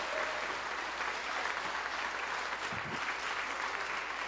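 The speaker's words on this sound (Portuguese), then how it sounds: "Bate palmas para Jesus." A church congregation applauds steadily and evenly throughout, a dense wash of clapping filling the room with no pauses or voices standing out.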